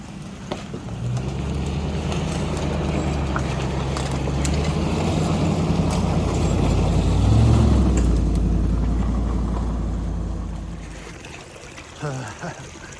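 An old Land Rover driving through a creek crossing, its low engine drone steady under the continuous rush and slosh of water, the noise swelling midway and then fading out.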